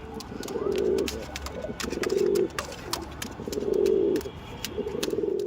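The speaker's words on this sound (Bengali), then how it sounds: "আপনার সামনে দেখাচ্ছি কালশিরা পায়রা, আন্ধ্রা কালশিরা।" Andhra Kalshira pigeons coo in repeated low, throaty rolling phrases, about four swelling bursts close by, with faint chirps and light clicks between them and no talk.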